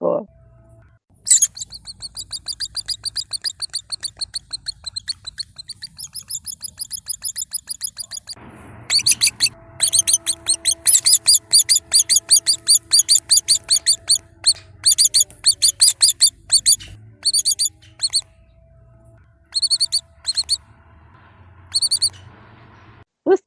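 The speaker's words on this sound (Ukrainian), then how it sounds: "я додам на фінал голоси малих українських дятлів з під Харкова." Young woodpecker chicks recorded near Kharkiv, Ukraine, give rapid, high, repeated begging calls in dense bursts, loud and close, with short pauses between runs and a low rumble under some passages.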